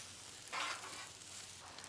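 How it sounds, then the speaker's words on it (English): Scrambled eggs and rice stirred together on a flat-top griddle for hibachi fried rice, giving a brief, steady hiss of sizzling with a scraping swell midway, close and moderately loud, no talking. "Now we're gonna mix these eggs in with the rice."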